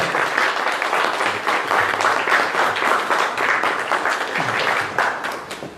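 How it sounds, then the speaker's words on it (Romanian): Audience applauding speakers after a Romanian talk on work-life balance: dense, steady clapping from a crowd that holds at an even level for the whole stretch, with no voices over it. "O rândă de aplauze pentru Radha, Krishna, Prabhu și pentru un public minunat."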